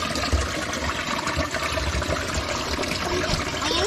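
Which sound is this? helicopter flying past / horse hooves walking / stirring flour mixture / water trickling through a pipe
water trickling through a pipe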